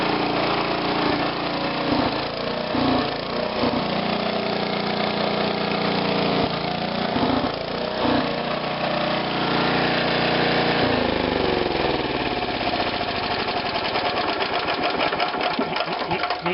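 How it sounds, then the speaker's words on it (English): A 1954 Kohler 1.5 hp single-cylinder small engine runs steadily outdoors, its close, loud, even putter holding for the whole stretch with no voices. "it's a really good running engine"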